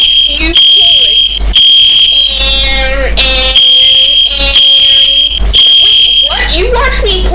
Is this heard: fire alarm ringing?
yes